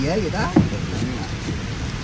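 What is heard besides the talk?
light steady rain falling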